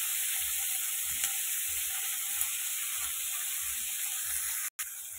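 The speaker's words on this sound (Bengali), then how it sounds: "এরকম করে সবটা ভেজে নেব।" Onions and nigella seeds fry in oil in a pan, a steady bright sizzling hiss that runs unbroken with faint low rhythmic thumps beneath and a brief dropout near the end.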